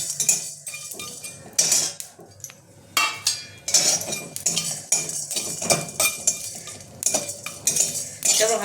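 Whole star anise and large black cardamom frying in a wok for a Bengali-style sukha chicken, heard as close, busy metallic scraping and clinking of a spatula against the pan with a soft sizzle underneath, no voices.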